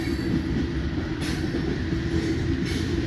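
A loaded coal train rolls past close by in a continuous low rumble of wheels and cars, with faint squeal and bursts of clatter, no voices over it.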